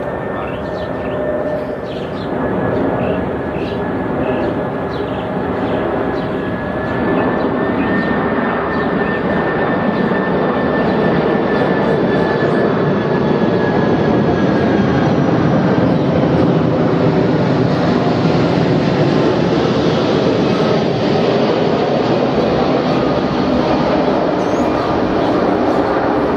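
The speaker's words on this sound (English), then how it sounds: "Hold on, this is a big aircraft going by." A big aircraft passes overhead, its broad engine roar holding steady and loud for nearly half a minute and swelling slightly as it goes by, with no talking over it.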